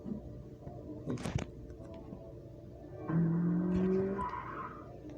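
BMW E36 with traction control off, tires squealing as it skids, heard at a distance under engine noise, with a sharp knock early on before a sustained screech takes over in the second half.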